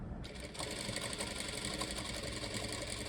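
A sewing machine runs steadily and close by while putting a double line of stitching on a blouse, a continuous whirring motor with a dense mechanical buzz and no pauses.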